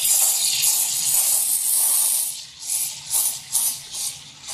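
A Quick Mill espresso machine steam wand purges condensed water with a loud, steady hiss of steam blasting continuously, then breaking into several short, sputtering bursts near the end.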